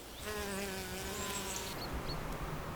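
Hornets buzz steadily at their nest in Germany's Black Forest, a close, continuous droning hum with wavering pitch, fairly quiet and alone.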